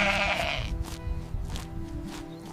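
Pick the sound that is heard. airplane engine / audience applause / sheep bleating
sheep bleating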